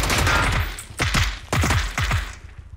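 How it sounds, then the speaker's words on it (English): Gunfire in the battle royale game PUBG: several loud, close bursts of rapid shots in quick succession, each with a sharp crack and a booming low tail, separated by brief pauses. "Shots ahead."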